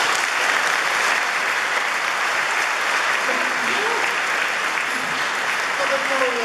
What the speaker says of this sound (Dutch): Dames en heren, uw applaus voor Francis van Broekhuizen.